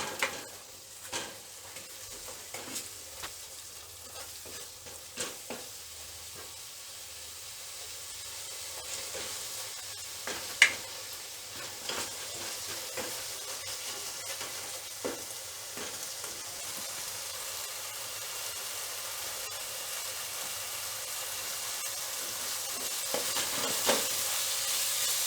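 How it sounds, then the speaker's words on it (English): Kidney bean curry masala sizzling steadily in hot oil while being stirred in a pan, a continuous bright hiss with scattered scraping and clinking of the spoon, close and moderately quiet throughout. "Going to mix it well I will wait till the oil separates."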